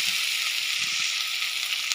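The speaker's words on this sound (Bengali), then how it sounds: "মাছটা হালকা ভাজা হয়েছিল, আর অর্ধেক ভাজা এটা এই পেঁয়াজ আদা রসুন বাটার সাথে হয়ে যাবে" Fish frying in a pan with onion, ginger and garlic paste, giving a steady, even hiss and sizzle throughout with no talk.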